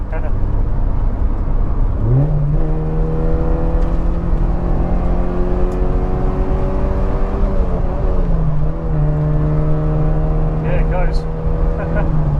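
A 1983 VW Golf GTI engine drones loudly from inside the moving car, its pitch climbing through the gears with brief dips at each shift, steady and close throughout.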